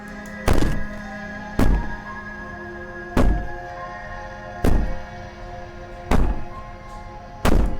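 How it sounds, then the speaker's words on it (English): Heavy, booming thuds from the video game Slay the Princess, a slow series of six resonant bangs spaced about a second and a half apart over a low droning background, with no wailing evident. "Maybe the banging and wailing will stop if you just don't pay attention to it"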